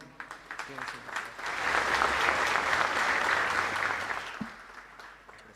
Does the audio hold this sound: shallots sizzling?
no